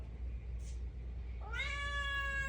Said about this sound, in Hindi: बाबा बातोनी बिल्ली